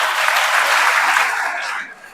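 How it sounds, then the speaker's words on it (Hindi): Audience applause for a teacher at a school gathering, a dense burst of clapping from many hands lasting about two seconds before tapering off. "एक बार उनके लिए ताली बजाएंगे।"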